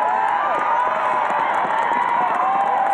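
A crowd of protesters marching in Washington for gun control reform, led by Newtown families, fills the air with a dense, steady roar of mingled voices and cheering that stays loud and close throughout.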